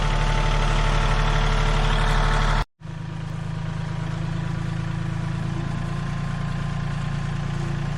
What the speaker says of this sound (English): She does love driving that tractor.